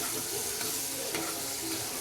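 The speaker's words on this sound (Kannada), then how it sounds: "ಇವಾಗ ಇದನ್ನು ಚೆನ್ನಾಗಿ ಫ್ರೈ ಮಾಡೋಣ" Salted mixed vegetables for vegetable pulao frying in a pan, a dense continuous sizzle with soft stirring under it, brief and close.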